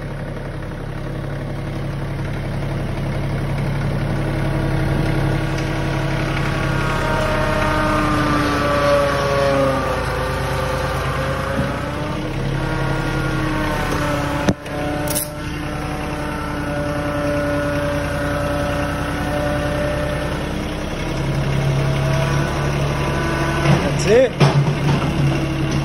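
A Bobcat CT1025 subcompact tractor's diesel engine runs steadily while the machine backs up in low range at full throttle, a continuous close drone with a brief sharp knock midway.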